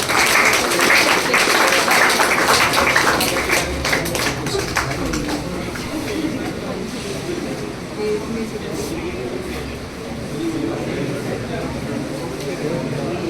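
Audience clapping at a coaching-class celebration in Beawar, a loud, dense burst that gradually thins while crowd chatter continues beneath it.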